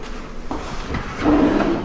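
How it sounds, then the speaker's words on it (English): A soft-close kitchen drawer slides shut with a smooth, damped glide and a gentle thud at the end, heard close and alone. "And then obviously self-close drawers."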